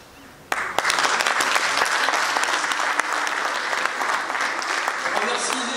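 An audience at an event in Hirson breaks into applause, a sudden onset followed by sustained dense clapping from a sizable crowd with a faint voice underneath.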